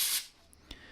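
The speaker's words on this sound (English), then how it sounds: "I'll then give it a bit of a flood over with some WD-40 and then spray it again" A short hiss of aerosol WD-40 sprayed onto the electrical connector of an ABS control module on a 2001 Mini One Cooper, a brief close burst that stops abruptly, followed by faint clicks.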